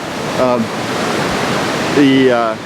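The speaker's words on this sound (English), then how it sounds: "Some really big waves coming through. Some huge sets." Big ocean waves break on the shore in huge sets, making a constant loud wash of surf noise, with a person talking briefly over it.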